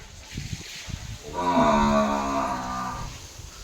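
A cow moos once, a long, loud, drawn-out low call nearby, with faint background noises before it.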